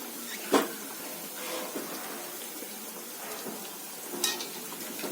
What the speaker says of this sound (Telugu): మెల్లిగా టర్న్ చేసుకొని చక్కగా వేగేలాగా బ్రౌన్ గోల్డెన్ బ్రౌన్ కలర్లోకి వచ్చేలాగా మనం చూసుకొని వేయించుకోవాలి